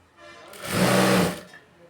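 Sewing machine stitching a blouse, one short whirring run that swells up and stops after about a second, close and alone.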